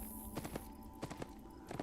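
Horse hooves clopping in the Fallen Earth game, a few close, quiet trotting steps in an even rhythm over faint background tones.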